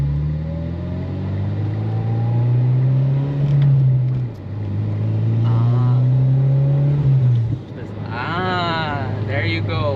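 A Mitsubishi Lancer Evolution X GSR with a five-speed manual gearbox accelerating, its engine droning loudly and rising in pitch through two long pulls with a dip between, heard from inside the car, and a hiss and whistle near the end.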